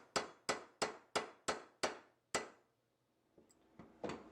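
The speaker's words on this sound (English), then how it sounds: "Sometimes when you're hammer peening the bolsters, you do have to put it back in the vise and squeeze them together and then hammer" Brass pins being hammer peened on knife bolsters give seven sharp, evenly spaced metallic taps in a steady rhythm, close and loud, followed by a pause and a few softer knocks.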